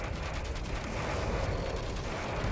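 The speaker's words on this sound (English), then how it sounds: "One of the best additions to SE was the fuel tank explosions." Fuel tank explosions in the Space Engineers video game: a continuous rumbling, crackling barrage of blasts, dense and fairly quiet, with no voices over it.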